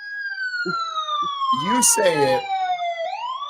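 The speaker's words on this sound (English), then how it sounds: "that was a siren." A loud siren wails steadily through the whole stretch, its pitch falling slowly before rising again near the end, while people talk over it.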